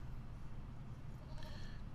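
A goat in Lord of the Rings Online gives a single short bleat that comes in briefly over a steady low game background hum.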